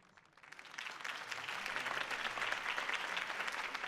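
Crowd applause from the Batman: The Telltale Series video game swells from quiet into sustained, dense clapping that holds steady as if from a large audience.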